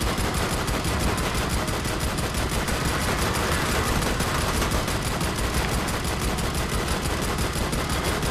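Rapid automatic gunfire from the player's weapon in the shooter game Army of Two, a dense, unbroken stream of loud shots with no break and no talking over it.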